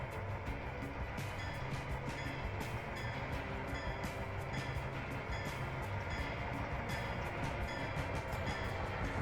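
A train rumbles steadily along in the Trainz railway simulator game, a continuous loud wash of engine and track noise with faint rhythmic clicks, no talk over it.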